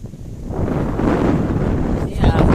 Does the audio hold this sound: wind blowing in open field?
yes